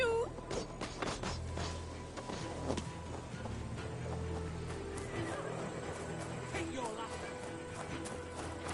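A horse neighs in Assassin's Creed Valhalla, its whinny rising briefly over dense game ambience and music, with the surrounding noise staying steady and fairly loud throughout.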